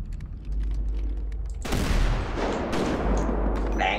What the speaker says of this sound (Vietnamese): cái này bắn dữ nè